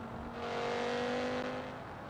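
A car engine in the BeamNG.Drive driving game revs steadily and loudly with a sustained, droning tone that holds for about two seconds.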